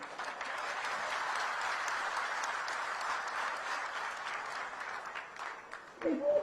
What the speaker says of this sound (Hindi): तो ताली धीरे क्यों बजा रहे?